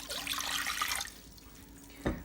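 Water poured into a measuring cup for churro dough, a bright splashing stream for about a second, then a quiet pause before a short thud near the end.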